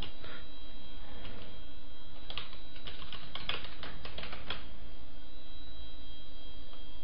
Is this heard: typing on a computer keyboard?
yes